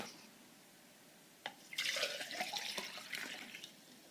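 Water poured from a tap or jug into a drinking glass, starting faintly with a couple of drips, then a bright splashing trickle that rises and fades over a few seconds, with no one talking.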